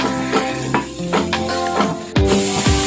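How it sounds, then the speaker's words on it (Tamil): Onions frying in a pan while being stirred with a utensil for instant paniyaram made from idli batter, a steady sizzle under repeated scraping strokes, louder near the end. "வெங்காயம் நல்லா வதங்கிடுச்சு."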